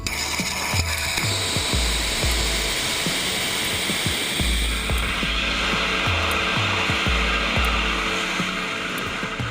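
A rocket engine roars with loud, steady broadband thrust during a COBALT flight demonstration, rumbling continuously with rhythmic low pulsing throughout.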